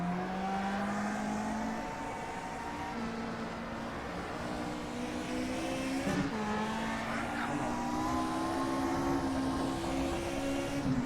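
Engine of a 1966 race car at the Belgian Grand Prix in a racing video game, a steady droning whine with harmonic bands that dip and climb through gear changes, loud and continuous with faint tire noise.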